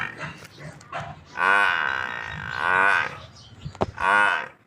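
A water buffalo cow offered for sale gives several loud, drawn-out moos close by, with short gaps and low grunts between them.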